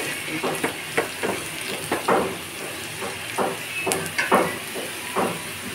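Spices and chilli tempering crackle and sizzle in hot oil for a bottle gourd dal, with a steady hiss broken by repeated sharp pops and spatters, close and clear.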